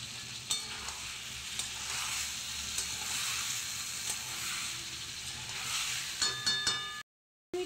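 Cumin, ginger, green chillies and a dried chilli sizzle in hot oil for a Bengali pabda fish curry, a steady close frying hiss with scattered crackles and a few utensil clinks near the end before a brief cutoff.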